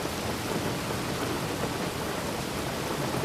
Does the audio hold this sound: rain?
yes